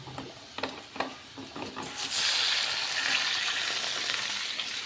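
Marinated chicken coated in turmeric, chili, salt and ginger-garlic paste drops into a hot pan: a few light clinks, then a loud, steady sizzle that keeps going close by.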